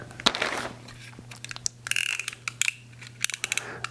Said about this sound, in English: now we're going to unwrap this, see what's inside it